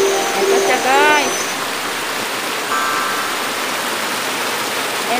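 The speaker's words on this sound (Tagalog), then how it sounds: "Oh, ito na yung falls." Naruron Falls waterfall roaring as a steady broadband rush that fills the scene, with a voice talking briefly over it near the start.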